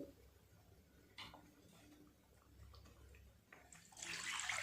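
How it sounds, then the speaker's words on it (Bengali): Water poured into frying masala in a pan for a fish curry, a soft splashing trickle with light clinks, then a louder hissing sizzle as the liquid hits the hot spices. "দিয়ে দেব পরিমাণ মতো জল। মশলার জার ধোয়া জলটা আগে দেব"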